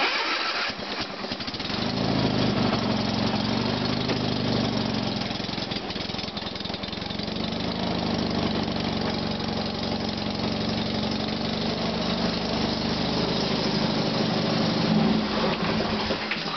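A small tractor engine cranks and catches without choke, then settles into a steady rumbling idle that runs on loud and even.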